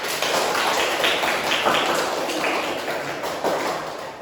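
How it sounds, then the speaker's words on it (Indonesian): Classroom applause from students, a dense, steady patter of many hands clapping together at close range throughout, with no voices over it. "Tepuk tangan untuk kita semua."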